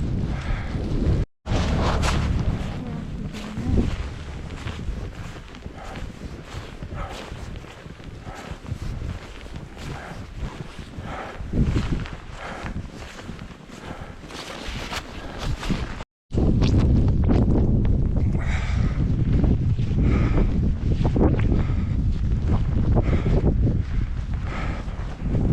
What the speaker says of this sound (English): I think all the blowing wind is keeping things from piling up here.